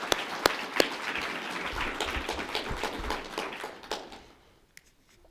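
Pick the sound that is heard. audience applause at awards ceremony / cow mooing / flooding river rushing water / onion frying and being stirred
audience applause at awards ceremony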